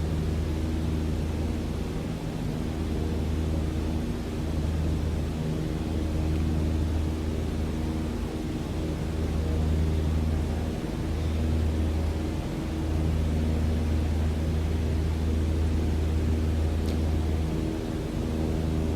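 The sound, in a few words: light aircraft engine climbing after takeoff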